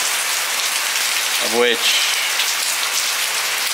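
Steady rain hisses on a surface throughout, with a brief spoken phrase in the middle.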